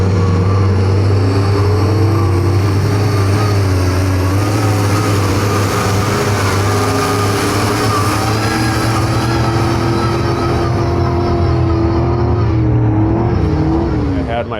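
A diesel mud bog truck engine revs hard and close, a loud sustained drone whose pitch rises and falls steadily throughout without pause.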